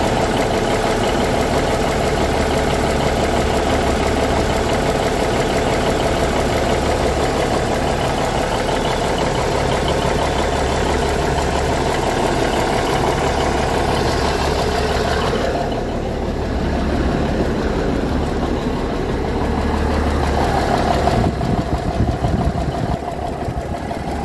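Cummins Big Cam diesel in a 1985 GMC General truck idles steadily with a loud, continuous low clattering rumble and faint knock, running alone for the whole stretch with a brief dip midway.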